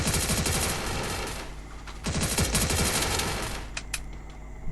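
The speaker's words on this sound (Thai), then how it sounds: "ยิงก็ไม่โดนคนเลย" Rapid automatic gunfire from the Free Fire battle royale game, dense bursts of machine-gun fire filling the clip with a brief lull before resuming, loud and close with no talk.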